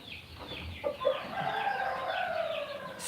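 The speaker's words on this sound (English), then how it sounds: "6 hens with 1 cock, as you see them." A small backyard flock of six hens and one rooster clucks and calls close by, overlapping warbling cackles rising and falling continuously with a faint crow, no talk over it.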